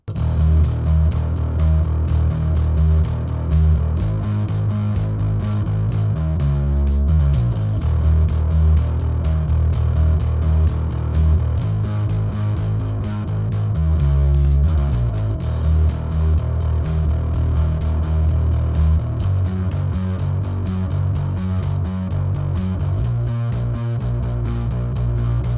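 A sample plays through the distortion and compressor loops of an effects unit, giving a loud, steady, distorted rhythmic pattern with pulsing low tones and shifting notes throughout, and no voice.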